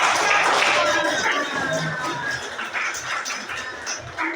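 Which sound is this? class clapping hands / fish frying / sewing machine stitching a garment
class clapping hands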